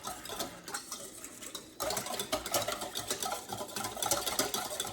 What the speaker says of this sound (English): Mix it together with a whisk, and you've got your marinade